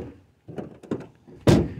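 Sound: closing rear doors of Ford Transit Connect camper

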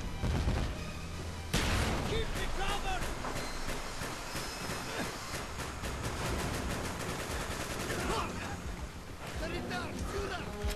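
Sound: gunfire in the video game Call of Duty: Black Ops

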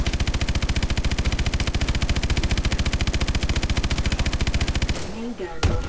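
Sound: main gun firing in a video game

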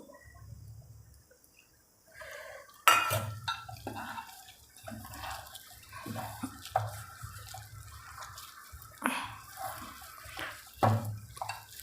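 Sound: water added to gram flour batter

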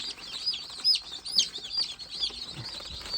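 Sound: Gavran hen clucking

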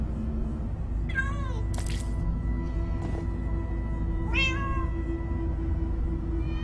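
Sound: cat meowing in the video game Minecraft Story Mode

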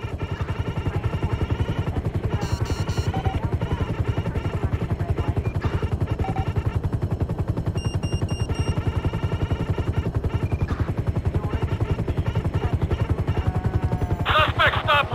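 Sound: police helicopter and gunfire in video game GTA 5

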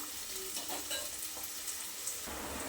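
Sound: frying onion in a pan

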